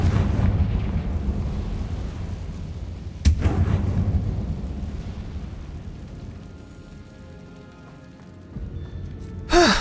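The Confringo fire spell from Hogwarts Legacy bursts with a sharp crack, then rolls into a deep, rumbling explosion that fades slowly over several seconds, with a second smaller blast near the end.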